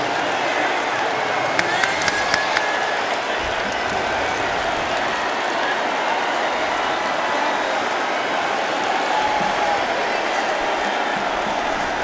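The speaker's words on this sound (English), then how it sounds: "Miami had this home crowd roaring, looking for a stop" A home stadium crowd at a Miami Hurricanes college football game against Michigan State roars in a dense, continuous wash of noise, with faint claps and shouts scattered through it.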